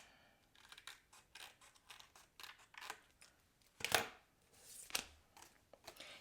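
Scissors snip through paper for a handmade card in several faint, close cuts with quiet gaps between them.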